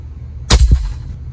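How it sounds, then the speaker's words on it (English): A single sharp, loud report from an AirForce airgun fitted with a Power Plenum, firing a 25.39 grain JSB pellet, a close crack with a quick second thump and short ringing decay. "Shot number 3,"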